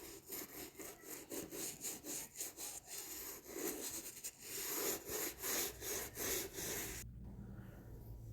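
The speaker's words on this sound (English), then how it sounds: "you just start to scrub that saddle soap all over the boot" Saddle soap is scrubbed over a Red Wing 202 leather boot with quick, rhythmic back-and-forth rubbing strokes, close and fairly faint, before stopping near the end.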